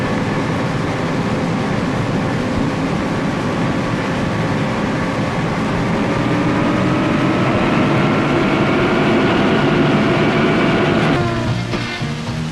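Turbine engines of a Pegasus-class hydrofoil spool up steadily for takeoff, a loud continuous roar with rising whine tones that climb in pitch over several seconds before a change near the end.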